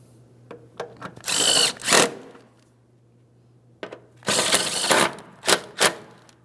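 Power-tool bursts tighten the transmission mount bolts on a 2003–2008 Toyota Matrix 1.8L I4. Two clusters of short, loud whirring pulses are separated by a quiet gap, with a few light clicks in between.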